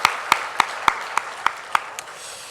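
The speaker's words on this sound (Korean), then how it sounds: "우리 박수로 축복 감사하겠습니다" Congregation clapping at a Sunday church service, heard as a slow, evenly spaced series of about eight sharp, unison claps that gradually soften and trail off.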